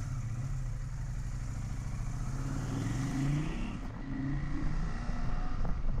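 A KTM 890 adventure motorcycle rides a trail in Portugal, its engine droning steadily and rising in pitch as it accelerates, heard close from the rider's position with some wind rush.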